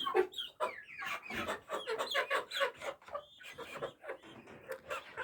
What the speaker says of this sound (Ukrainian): Ой, півні марани.